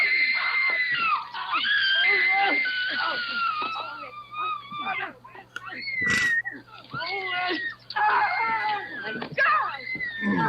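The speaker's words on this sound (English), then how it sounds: "She screams for like 5 minutes." A woman screams again and again in a scene from a horror film, the episode "Number Six" of the Chiller anthology series. Her shrill, wavering, breathless cries come in long bursts with brief gasping pauses, played back loudly.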